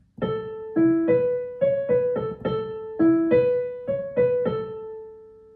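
A sung melody moves through a series of sustained notes, each note sounded twice at once with a higher harmony line riding above the tune, clear and steady.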